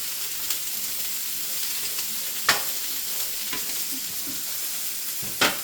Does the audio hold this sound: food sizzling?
yes